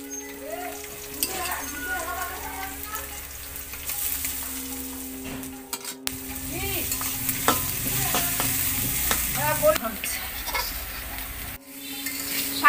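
Onion and leafy greens fry in a pan with constant sizzling and scraping stirring, spatula knocks recurring throughout, while voices talk over much of it and birds chirp faintly in the background.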